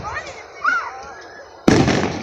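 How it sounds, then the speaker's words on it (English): Big fireworks go off, a sudden loud burst that roars on after a quieter stretch of distant crackle and whistling, with people talking nearby. "They got them big old fireworks, them loud fireworks."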